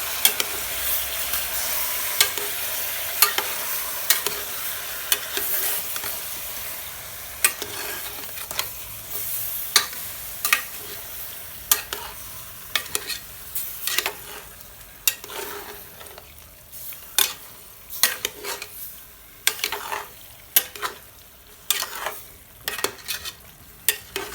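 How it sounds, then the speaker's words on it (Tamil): Country chicken stir-fries with onion and ginger garlic paste, a continuous sizzle under repeated sharp scrapes and clacks of a spatula against the pan that grow more frequent over time. "அதோட நம்ம எடுத்து வச்சுக்கக்கூடிய இஞ்சி பூண்டு பேஸ்ட் போட்டுடலாம் எல்லாமே சேர்த்து நல்லா கிளறிடலாம்"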